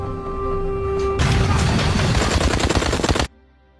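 Rapid automatic gunfire erupts in a war film battle scene, a dense loud rattling volley lasting about two seconds after a tonal musical lead-in, then cutting off abruptly into near silence.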